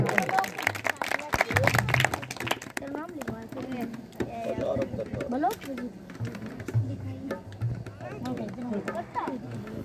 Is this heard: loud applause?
yes